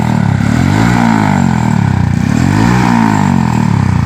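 Honda Astrea Prima Grand motorcycle with an aftermarket exhaust revving from two meters away, a loud, steady, throbbing engine drone with slight rises and falls in pitch and no voices over it.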